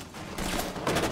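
Rapid bursts of gunfire in the video game Rainbow Six Siege crackle through a busy, noisy mix, a dense volley of shots close and fairly loud with no talk.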